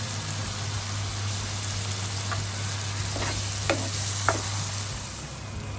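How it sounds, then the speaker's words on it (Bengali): Onions browning in oil in a pan with spices such as turmeric and chili, a steady soft sizzle with a few brief stirring scrapes over a low constant hum. "ভাজতে দিয়েছি পেঁয়াজটা একটু ব্রাউন হয়ে গেলেই আমরা মশলা দিয়ে দিলাম"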